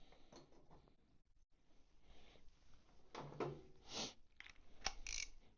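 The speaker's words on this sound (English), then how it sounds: "we're just going to get it hand tight with the ratchet." A hand ratchet clicks in short irregular bursts while snugging a bolt hand-tight on a Triumph motorcycle, close and quiet, with metallic clinks and small tool movements between strokes.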